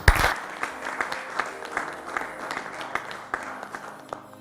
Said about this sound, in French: Je vous demande d'applaudir bien fort les invités du jour.